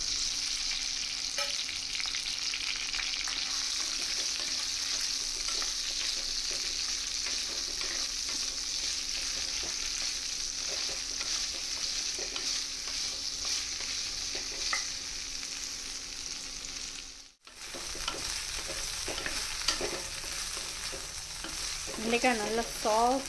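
Okra fries in a clay pot with a steady, dense sizzle that runs continuously, broken by a brief dropout near the end before the frying hiss resumes with light stirring scrapes.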